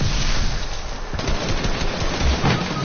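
Sustained SMG fire in a video game, a dense, loud burst of rapid shots filling the whole moment with no talk over it.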